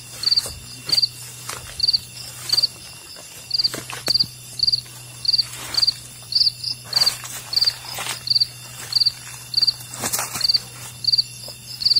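A cricket chirps at night in a forest, sharp high pulsed trills repeating in a steady rhythm close by, with faint rustling footsteps beneath and no talking.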